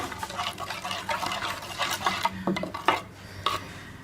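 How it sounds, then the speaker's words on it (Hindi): A spoon stirs spices and food colour into yogurt in a bowl for chicken tikka biryani, producing close, irregular wet scraping and clinking strokes with no talking. "इसको अच्छी तरह से मिक्स कर लेंगे सारे मसालों को दही के साथ।"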